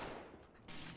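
Charge rifle fire in Apex Legends, a dense burst of gunfire with a short break and then more shots, loud and close over game noise, with no talk.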